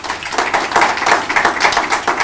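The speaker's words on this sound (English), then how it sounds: "A round of applause here." An audience at a mentoring event applauds after a speaker, with close, lively and rhythmic clapping that stays loud through the whole span.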